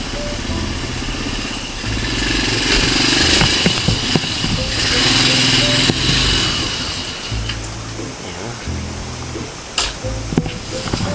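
A motorcycle engine runs steadily during heavy overnight rain, a close, rough mid-pitched drone with a few sharp knocks and clatters and some louder surges, all over a constant wash of rain.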